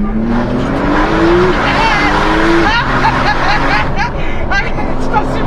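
A Porsche worth about 500,000 euros is driven fast through bends, its engine loud and rising in pitch with shifting tones and some tire noise, while people inside shout and talk over it.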